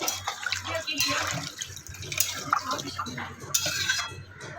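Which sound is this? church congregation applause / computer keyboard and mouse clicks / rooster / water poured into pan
water poured into pan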